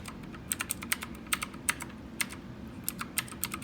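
Fingers type on a Redragon Kumara wired, LED-lit mechanical gaming keyboard. Crisp key clicks come in irregular bursts of taps at close range with no talking.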